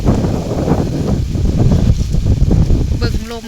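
Strong wind buffeting a microphone outdoors while hunting red ant eggs, a loud continuous low rumble with gusty surges throughout, and a voice faintly present beneath.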